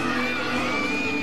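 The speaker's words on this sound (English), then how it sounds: "The crowds are huge." A large, lively crowd at a college women's gymnastics meet between Auburn and Florida, a dense wash of cheering and shouting voices filling the arena, loud and continuous for a brief moment.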